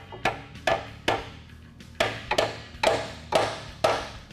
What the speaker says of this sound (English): we're going to hammer this 12 on, and hopefully it can grip onto the nut and we can break it free